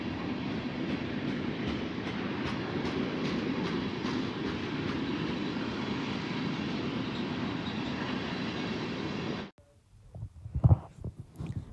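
Amtrak 7, the Empire Builder bound for Seattle and Portland, led by a P-42 locomotive, rumbles past loud and close in a steady roar of rail noise for about nine seconds, then cuts off abruptly to quiet with a few faint knocks.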